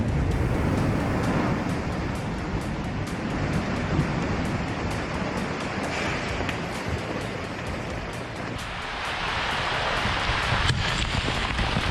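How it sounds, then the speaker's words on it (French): An avalanche in Karimabad, Hunza, Pakistan roars as a loud, continuous broadband rush that fills the whole stretch without letting up, with no voices. "Une avalanche a frappé Karimabad, Hinza, au Pakistan, le 27 novembre."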